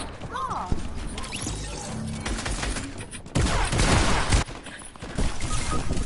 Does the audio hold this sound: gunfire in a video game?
yes